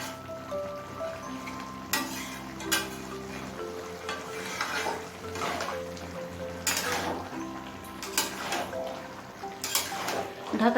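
Cabbage with a katla fish head is stirred in a hot pan, with scraping strokes and clanks of the spoon over a steady sizzle, close and moderately loud.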